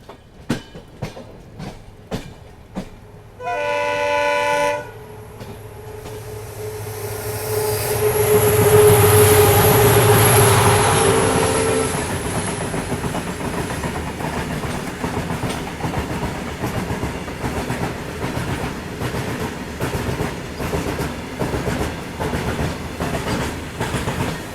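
The Mangla Lakshadweep Express runs on the Konkan Railway, opening with a loud horn blast and a swelling rush of passing noise, then settling into steady, rhythmic clickety-clack of wheels over rail joints.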